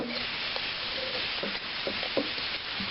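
Grouse and vegetables cooking down in a pan on a homestead stove, giving a steady, close frying sizzle with a few soft stirring knocks and clinks scattered through, and no talk.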